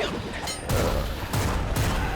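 Game explosions and bursts of gunfire in the video game Bloodshed, several loud booming blasts at close range, with no one talking over them.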